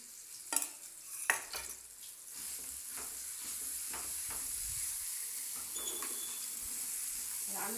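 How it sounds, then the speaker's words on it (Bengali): Pea kachori frying in hot oil, starting with a couple of sharp clatters before settling into a steady, close sizzle that carries on to the end. "এইবার পুরটা তেলের মধ্যে দিয়ে দিলাম"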